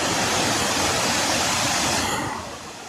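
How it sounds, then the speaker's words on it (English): Waterfall at Piney Falls near Spring City, Tennessee: a loud, steady broadband roar of falling water that fills the whole clip, easing slightly toward the end. "Look at this beautiful waterfall."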